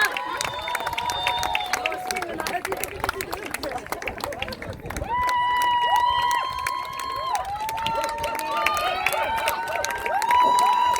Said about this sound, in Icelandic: Gefum þeim gott klapp.